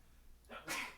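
A short, sharp sneeze bursts out after a faint breathy intake, close to the microphone, with nothing else around it.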